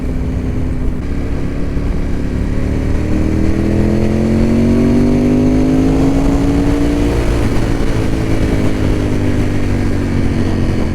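A motorcycle engine drones steadily while riding, with a rising then falling whine as the revs build and shift, loud and close with wind rush behind it.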